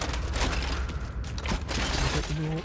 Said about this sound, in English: Changing mags.